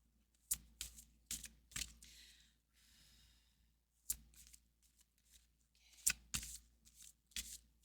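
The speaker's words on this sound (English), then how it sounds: "So I'm going to shuffle, but then I'm going to split and pull." Oracle cards are shuffled in several quick riffling bursts, crisp papery flutters separated by short pauses and soft breathing, recorded close and quiet.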